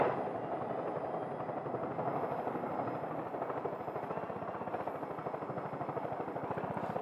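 A helicopter in the video game Far Cry 5 gives a steady, rapid rotor chop with a dense engine roar that holds for several seconds, loud and close, with no voices over it.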